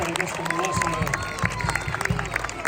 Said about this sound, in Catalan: Un fort aplaudiment per aquesta Mulassa